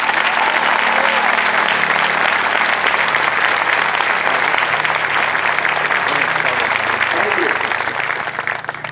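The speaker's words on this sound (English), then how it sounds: "Let's give them a round of applause." A crowd applauds loudly and continuously at an Air Force basic military training parade, dense clapping filling the space before tapering off slightly at the end.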